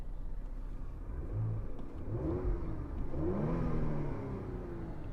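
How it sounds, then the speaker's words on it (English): A 2023 Porsche Macan S engine revs up and holds through several rising blips, a steady close mechanical roar with shifting tones and no talking over it. "So let me just rev the car for you."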